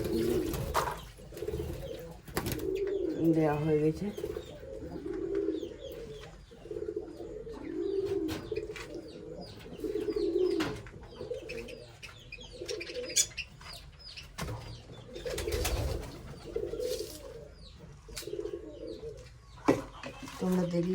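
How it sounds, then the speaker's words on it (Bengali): Pigeons in a loft give repeated low, throaty coos that rise and fall close by, with a few light chirps, while a person talks over them at times. "সব পায়রাগুলো এখানে বেড়াচ্ছে, খাবার খেয়ে বেড়াচ্ছে"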